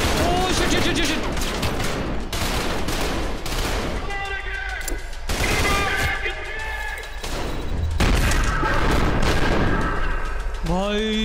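Grenade blasts and rapid gunfire from the shooter game Trepang 2 roar loud and dense throughout, with heavy booming thuds and sustained bursts, while an excited voice talks over the chaos.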